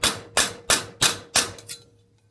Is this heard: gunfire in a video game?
no